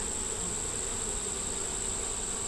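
Honeybees hum steadily around an open hive, a dense, even buzz close by that stays unbroken for the whole stretch, with no voices.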